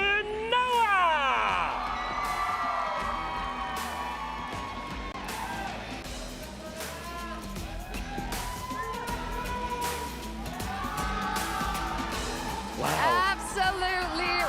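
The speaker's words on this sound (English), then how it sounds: "Absolutely wicked crowd." A large esports crowd at a Mobile Legends tournament grand final cheers and screams loudly, with bursts of whooping and shouting swelling at the start and end over an amplified announcer's voice.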